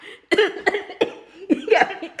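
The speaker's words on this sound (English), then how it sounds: "got me coughing." Someone coughs close and loud after tasting chili mango ice cream, a run of harsh bursts with a faint chuckle mixed in.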